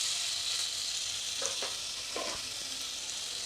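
Cumin seeds and ginger-garlic paste fry in a hot pan for palak soup, giving a constant close, bright sizzle with a few soft stirring scrapes in the middle.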